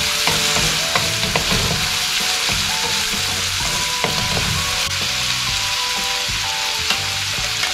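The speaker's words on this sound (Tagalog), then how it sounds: "Lutuin lang po natin yung ating luya at saka sibuyas." Ginger and onion sizzling and frying steadily in a hot pan, a continuous loud crackle broken by scattered clinks and scrapes of a utensil stirring, with no talking.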